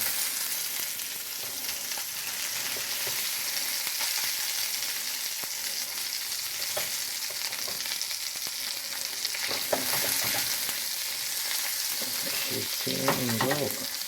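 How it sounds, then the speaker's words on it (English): Meatballs browning in a frying pan give a steady, close sizzle and spatter, with occasional clinks and scrapes of a utensil turning them toward the end. "I will put the meatballs in that are browned"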